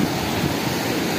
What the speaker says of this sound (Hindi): लहरें बहुत खतरनाक है लहरें देख सकते हो आप समंदर की लहरें ज़बरदस्त है